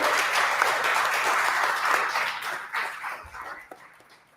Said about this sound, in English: just a round of applause to Ben for doing this for the community